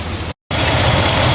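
A Dodge Charger with a small exhaust leak idles up close, giving a steady, loud low rumble with broadband hiss that briefly cuts out to silence before resuming.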